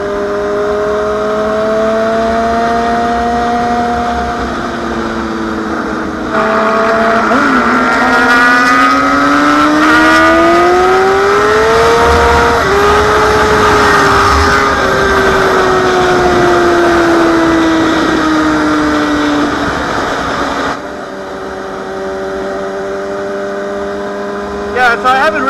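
A Honda CBR 600RR sport motorcycle engine sings close up while riding, its pitch climbing and falling through the gears in a steady, loud whine.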